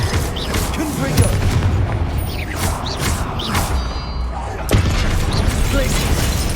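Confringo fire blast spell erupting in Hogwarts Legacy, a loud burst around a second in and another near the end, set within a dense, continuous wash of game combat effects and rumble.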